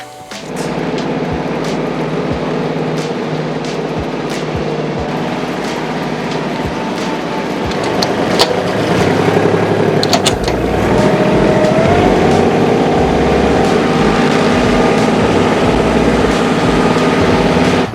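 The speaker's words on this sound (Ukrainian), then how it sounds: "зараз включили функцію оберт на місці, і трактор просто розвернувся" A small tractor engine runs steadily and loudly, rising in power partway through as it turns in place, with clanking and rattling of machinery as it moves.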